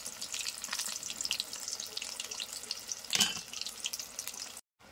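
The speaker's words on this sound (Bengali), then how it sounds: "আগে ভেজে নিই ভালো করে।" Chicken pakoda frying in hot oil gives a soft, continuous fizzing hiss with a brief louder sizzling burst near the end, heard alone at low volume before cutting out abruptly.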